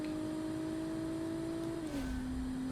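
A 3.5-litre twin-turbo V6 car engine in BeamNG.drive holds a steady, moderately loud drone at constant revs, then drops in pitch near the end as the revs fall, with no talking.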